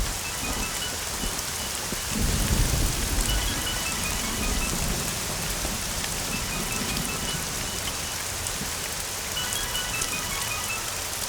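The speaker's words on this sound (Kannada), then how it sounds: "ಇಲ್ಲಿ ತುಂಬ ಮಳೆ ಬರ್ತಾ ಇದೆ" Heavy rain pours down steadily in a dense, even wash of drops, with a low rumble of thunder swelling briefly near the start and no voices.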